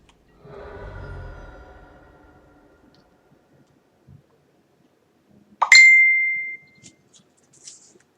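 A bright electronic chime like a phone notification rings out once, clear and fairly loud, with a few faint clicks after it, following a softer low hum that fades early on.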